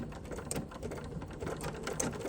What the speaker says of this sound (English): this wing needle is just making a delicate hole off the edge